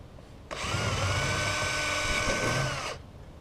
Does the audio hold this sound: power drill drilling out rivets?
yes